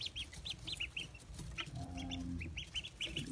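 Khaki Campbell ducklings, an egg-laying breed on a farm, peep in rapid high chirps, some overlapping, with a brief lower call partway through, heard close and without talk.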